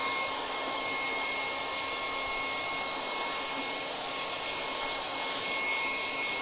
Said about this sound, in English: hit the hairdryer on it again